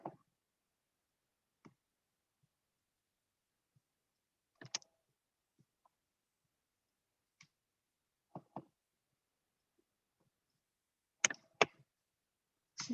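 A computer mouse clicking: sparse, crisp single and double clicks spread across a quiet room with long silent gaps between them.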